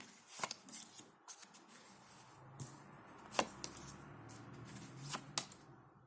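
Tarot cards being handled and shuffled up close, with a series of short crisp riffles and slaps separated by quieter pauses.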